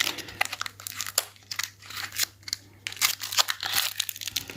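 Crinkling plastic packaging as a toy box is opened, a steady run of close rustles and crunches with short pauses, over a faint low hum.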